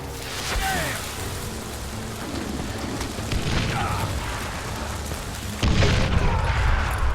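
A dynamite blast in the western shooter Ranslinger erupts late as a sudden loud, deep boom with rumbling debris, following a stretch of dense, rain-like game ambience with faint speech.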